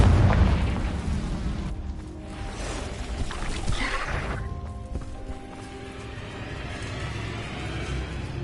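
Magical blast spell detonating in Hogwarts Legacy, a deep booming burst that swells into a rushing roar around four seconds in, then rumbles and fades under a continuous low ambient drone, with no talking.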